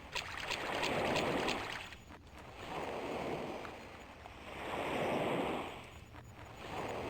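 Ocean waves wash around a raft sailing at sea in Stranded Deep, three slow swells rising and falling, with a steady breezy rush and faint creaks between them.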